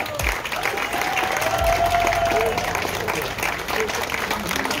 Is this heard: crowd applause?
yes